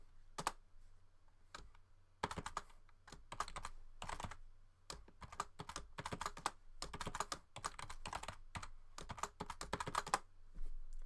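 A password is typed on a computer keyboard during a virtual machine setup: close, irregular keystrokes in quick clusters with short pauses, and no talking.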